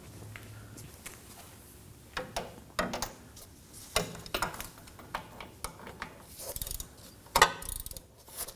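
A ratchet works a bolt loose on the rear hub assembly of a Nissan Armada, giving bursts of close, clicking pawl ratchets in uneven runs with short pauses between strokes.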